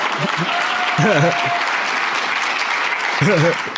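Dense, steady applause from an audience fills the room throughout, with a voice speaking over it at moments.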